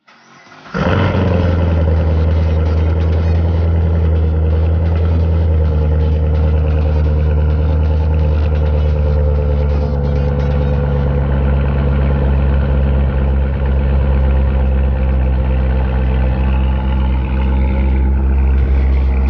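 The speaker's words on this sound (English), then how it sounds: "How about a cold start this morning of my new" A Chevrolet Corvette C7 Stingray fires up from cold and settles into a loud, steady, deep idle that runs close and unbroken for nearly twenty seconds, with no voices over it.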